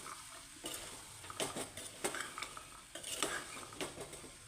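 Kurma is stirred and roasted with masala powder in a pan: irregular scraping spoon strokes and clinks over a soft frying sizzle, close and fairly quiet, with no talk.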